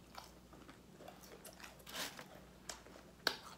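Fries from White Castle, warmed in an air fryer and not very crunchy, are chewed close to the mic during a mukbang, with soft irregular bites and a few sharper crunchy clicks.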